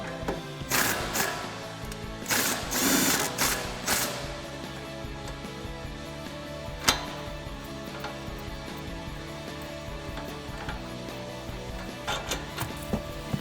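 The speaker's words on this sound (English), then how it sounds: "my 8mm on my 3/8 gun, and I'm going to remove this nut and remove our sway bar link from our strut" A 3/8-inch air impact gun with an 8mm socket removing the sway bar link nut from the strut of a 2011-2014 Mustang, giving short bursts of whirring and rattling near the start, then quieter intermittent ticks and clicks against a steady background hum.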